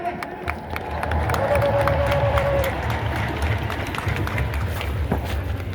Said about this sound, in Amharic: እልል በል።